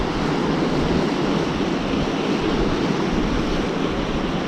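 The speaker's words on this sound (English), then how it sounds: "You've got the odd wave coming in" Rough surf and wind batter a rocky shore beside a ledge used for bass lure fishing, a steady loud roar of breaking waves and wind buffeting the microphone throughout, with no talk.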